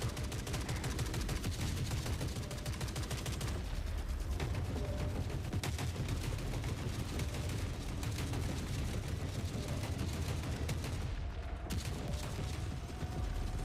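Sustained gunfire in the shooter Forever Winter, a steady rattle of automatic fire and distant blasts, fairly quiet overall and continuing without break, briefly thinning near the end.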